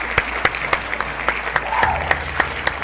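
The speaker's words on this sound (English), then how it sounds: "Everybody clap that up." Scattered, sparse applause from a small audience in response to a call to clap, with distinct individual hand claps spaced roughly every quarter second over a steady low hum, no voices on top.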